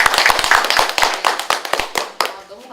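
Clapping rings out at a community policy meeting in Seoul, a brisk burst of close, sharp hand claps that thins out and fades over a few seconds, with no talk over it.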